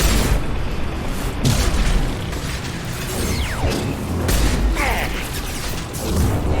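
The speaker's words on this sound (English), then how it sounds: "Taking heavy fire." Heavy weapons fire and explosions in the Mass Effect 2 video game, a loud continuous barrage of booms, mechanical rattling and bursts with game voices mixed in.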